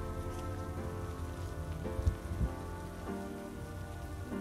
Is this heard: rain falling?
yes